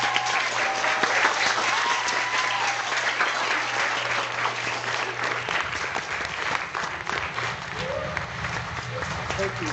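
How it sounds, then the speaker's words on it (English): Sustained audience applause for Hall of Famer Floyd Little, a dense steady wash of clapping that holds loud throughout, with a low hum and faint voices underneath. "please join me in giving a round of applause for Hall of Famer Floyd Little"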